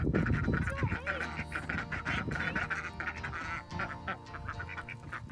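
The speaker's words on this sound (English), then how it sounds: "The ducks are always so excited to see us." Backyard laying ducks quack excitedly in a rapid, overlapping chorus close by, continuous and loud, with a person talking over the flock.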